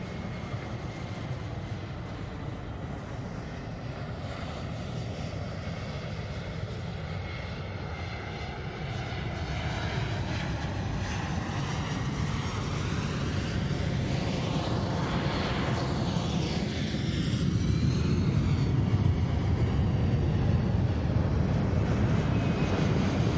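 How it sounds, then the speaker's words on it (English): A C-17 military transport aircraft flies a slow circle over the airfield at an airshow, its jet engines a loud, continuous roar that swells and shifts in pitch as it passes. "C-17 will now maneuver for a circle over the airfield, showing its ability to fly at slow speeds"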